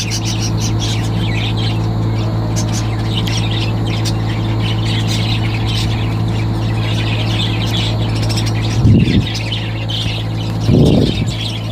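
A caged pet bird gives repeated high chirps and squawks over a loud, steady background hum, with two brief louder bursts near the end.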